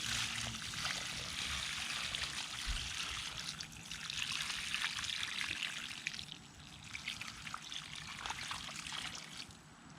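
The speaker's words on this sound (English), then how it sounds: "we're just gonna add some water here so that our plant is nice and welcome." Water is poured over a newly planted, mulched bamboo plant in the ground outdoors, producing a continuous, close trickling and splashing stream that runs steadily for the whole stretch without talk.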